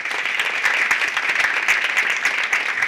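An audience at a student research day event applauds for a guest, many hands clapping in a steady, lively patter with some sharper individual claps close by.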